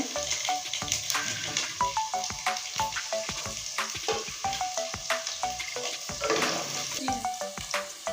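Chopped onion, garam masala and bay leaf go into hot oil for a Bengali fish curry, frying with a steady close sizzle broken by rhythmic spatula scrapes and clinks against the pan.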